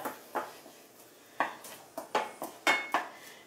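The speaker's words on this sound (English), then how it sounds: "And just briefly stir those for a second," Ingredients with garlic are stirred briefly in a pan for cauliflower fried rice, heard as about ten sharp utensil scrapes and clinks at an uneven rhythm, close and clear against a quiet background.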